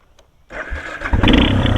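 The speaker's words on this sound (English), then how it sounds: "My bike won't turn over now." Electric starter on a dual sport motorcycle with a weak battery, cranking without the engine catching; after a quiet half second a steady mechanical whirring starts close by and grows louder toward the end, with no talking.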